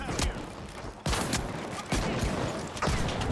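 Gunfire from a weapon in the shooter game The Finals, sounding as several loud, dense bursts with sharp onsets about a second apart over a constant noisy game background.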